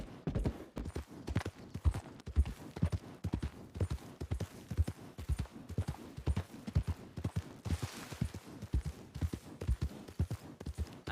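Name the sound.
horse hooves clip-clopping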